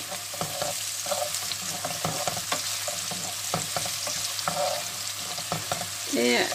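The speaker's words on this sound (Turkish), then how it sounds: "Biraz kavuralım." Two onions sauté in a hot pan with a steady sizzle broken by scraping stirs and soft clinks of a utensil, close and fairly quiet, with no talk.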